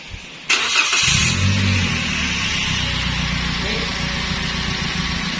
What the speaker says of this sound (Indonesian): Selanjutnya kita akan coba hidupin mesin.